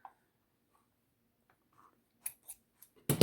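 Fine, never-used 25-pound test fishing line is cut while a red necklace is being repaired. A few soft, crisp snips come in a quiet room, ending in one louder, sharper cut.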